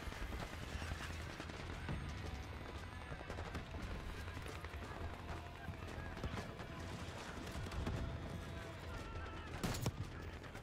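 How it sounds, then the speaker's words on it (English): Gunfire in the video game Call of Duty Black Ops 6, with dense bursts of shots and rattling fire running steadily beneath a game soundscape, and a sharp louder blast near the end. "now we can start shooting him a bit more easily"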